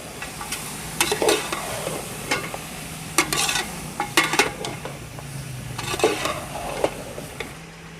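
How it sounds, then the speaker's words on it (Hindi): A large batch of beef korma is mixed in a pot, with repeated close metallic scrapes and clanks of a spoon over a constant frying sizzle, in irregular bursts and no talk. "इसको अच्छी तरह मिक्स कर लेते हैं।"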